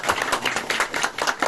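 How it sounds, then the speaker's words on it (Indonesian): Villagers at a community neighbourhood-watch competition event in Sidorejo applaud the village head, a brief burst of close, fairly loud clapping with distinct individual claps and no speech. "Tepuk tangan ke Pak Kepala Desa."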